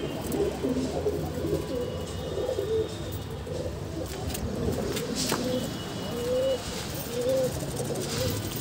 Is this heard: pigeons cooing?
yes